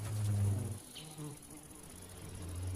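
An ivy bee buzzes loudly and close at first, fades as it flies off, then its hum swells again near the end against a quiet outdoor background.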